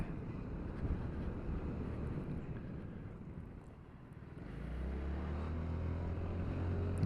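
A 2021 Honda Forza 350 scooter rides along a road with steady wind rush, then the engine note rises and settles into a firm hum as the throttle opens near the end.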